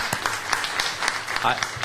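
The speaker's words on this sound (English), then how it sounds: "Another round of applause for that" An audience at a listening session applauds, with a burst of irregular, fairly close clapping and voices mixed in underneath.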